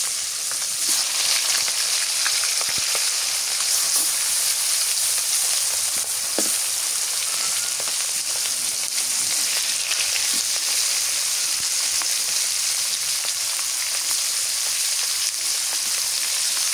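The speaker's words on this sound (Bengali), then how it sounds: "আর এটি খালি তেল ছিটছে।" Pangas fish frying crisp in hot oil, a loud, steady sizzle with constant splattering hiss filling the whole stretch, with no talking.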